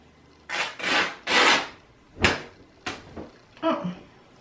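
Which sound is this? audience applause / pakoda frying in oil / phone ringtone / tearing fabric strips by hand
tearing fabric strips by hand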